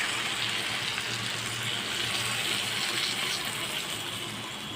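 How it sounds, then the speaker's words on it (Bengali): Water goes into a cooking pot in a home kitchen, a steady, close, fairly loud rushing hiss that stays constant throughout with no voices. "এখানে মোটামুটি জল দিয়ে দিয়েছি একটু নুন দিয়েছি"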